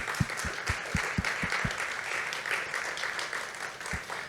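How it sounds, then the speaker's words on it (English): Steady applause from a conference audience honouring event sponsors, dense clapping throughout with a few sharp low thumps early on, moderately distant in a large hall. "Let's give another round of applause to all of our sponsors."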